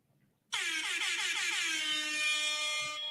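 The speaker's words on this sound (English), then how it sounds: "We're gonna give you the ratchet air horn since I ain't got the cord." An air horn sound effect blasts suddenly after a short quiet start, a loud, blaring, sustained honk that holds steady for a few seconds without any talk.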